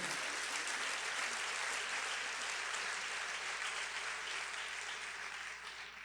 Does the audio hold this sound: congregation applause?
yes